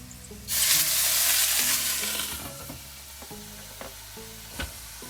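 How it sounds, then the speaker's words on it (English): A loud burst of hissing sizzle as water hits a hot pan of frying dumplings, settling into a steady crackling simmer with a few clinks. "we're going to throw in the water and then steam it for another 5 minutes."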